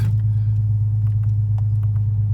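A Nissan 350Z HR engine held at a set rev limiter of 3,300 RPM, a loud, steady low rumble with small pulsing ticks above it, close to the car and with no speech.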